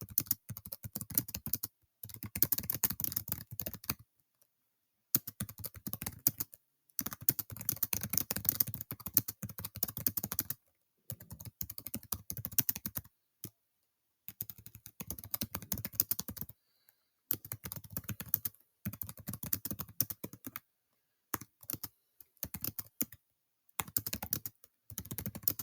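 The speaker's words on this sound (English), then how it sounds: "let's type out a couple of sample responses that you could have put for this section with your groups" Typing on a computer keyboard produces quiet, rapid clacking in bursts of a few seconds each, broken by short silent pauses, with no speech over it.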